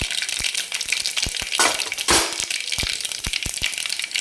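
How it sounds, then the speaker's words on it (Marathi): Mustard seeds and cumin crackle in hot oil, a close, steady sizzle broken by frequent sharp pops and bursts of spitting, with no voices. "आता मोहरी टाकून घ्यायची. छान कडकडीत एकदम तडकली पाहिजे."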